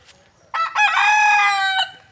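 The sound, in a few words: rooster crowing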